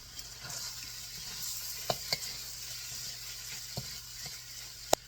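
Egg masala for mutta puttu sizzles and fries in a pan, a steady hiss broken by a few sharp clicks and scrapes as the mix is stirred, moderately quiet with no talk.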